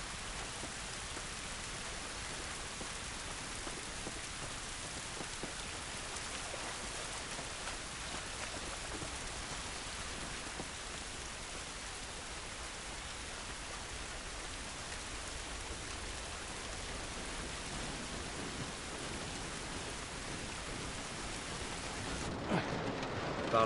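Steady rain falls outdoors in The Last of Us Remastered, a dense even hiss of drops on surfaces that continues unbroken and fairly soft, with a brief louder disturbance near the end.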